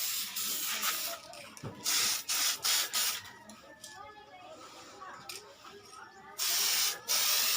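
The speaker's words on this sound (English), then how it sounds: "So today we're going to do the clear coat, and just like before, the first coat is the tack coat, so it's real light." Tamiya clear coat spray paint applied to a Tamiya Lunchbox model in light tack-coat passes: repeated short hissing bursts from the can, alternating with quiet gaps and some nearby talking.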